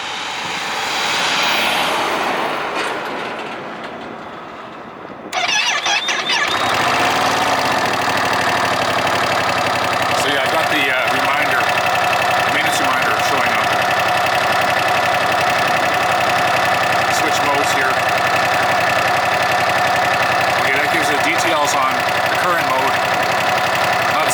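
A Ducati Panigale V2 motorcycle fires up after a brief lull, then settles into a steady, loud idle with an even mechanical drone that continues alone for the rest of the clip.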